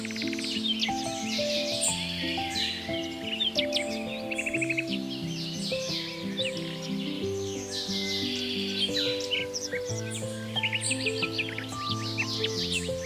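A green-headed tanager singing in tropical Atlantic forest, with rapid high chirps and twittering phrases repeating over a steady tonal background bed.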